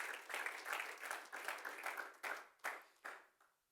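A church congregation claps for the Lord during a Sunday service, a sparse, quiet scattering of claps that thins into a few distinct, separate slaps toward the end.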